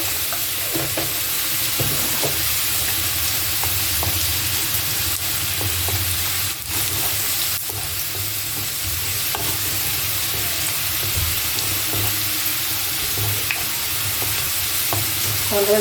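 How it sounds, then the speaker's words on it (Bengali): Two bay leaves, two dried chillies and whole cumin seeds sizzle in a little hot oil in a wok for a vegetable curry, a loud and steady crackling hiss that continues without pause, close to the pan. "এবার আমি 2টো তেজপাতা, 2টো শুকনো লঙ্কা দিলাম, অল্প একটু জিরে দিলাম, গোটা জিরে।"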